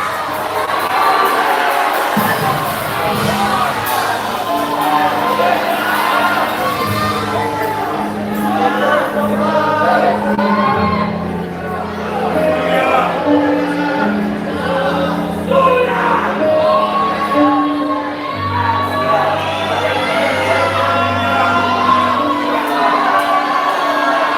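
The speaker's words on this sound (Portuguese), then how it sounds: "Solte o grito de glória para agora." A Pentecostal conference congregation shouts and cheers loudly and continuously, a dense mass of voices over sustained keyboard notes, with scattered whoops rising above the crowd.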